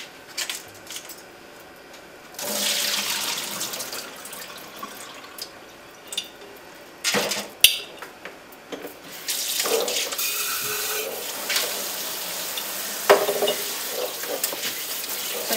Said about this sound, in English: I'm going to drain those and rinse them